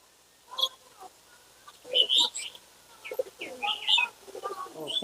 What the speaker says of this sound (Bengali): এটা মাদা পায়রা না সাদাটা মাদা পায়রা আর এটা নট পায়রা